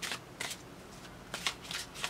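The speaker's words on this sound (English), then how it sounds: "if the card drops when I'm shuffling the cards" Tarot cards being shuffled up close, several quick riffling bursts in a loose rhythm, soft and crisp.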